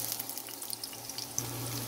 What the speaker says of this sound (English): You will add some oil in a pan. I used olive oil because it adds a very nice flavor. Add some onions to the oil.